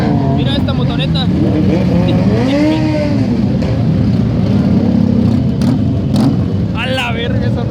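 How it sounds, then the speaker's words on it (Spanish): A motor scooter rides past in a Day of the Dead motorcycle caravan in Puebla, its engine revving and swelling close by amid other passing bikes, while someone talks excitedly over the traffic noise. "Mira esta motoneta."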